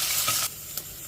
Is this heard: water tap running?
no